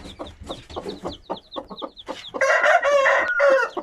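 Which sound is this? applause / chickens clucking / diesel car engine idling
chickens clucking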